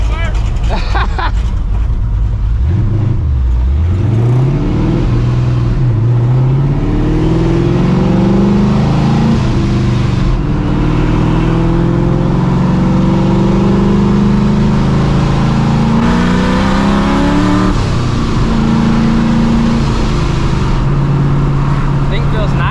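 A 600hp ProCharged New Edge Mustang GT pulls hard from inside the cabin, the engine climbing through several long loud gear sweeps with supercharger whine, while voices talk over it.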